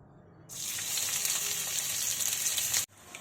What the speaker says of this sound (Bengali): অল্প তেল দিয়ে এটাকে নাড়াচাড়া করে নেবো, সামান্য একটু নুন দেবো ভাজার সময়।